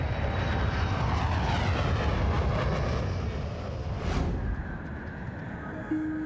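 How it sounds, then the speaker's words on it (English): Steady roar of an airliner's engines in flight, broad and constant throughout, with a brief rushing swell near the end and no talk over it. "It's only when the plane finally breaks free of the clouds that Captain Ho is able to regain control of his plane"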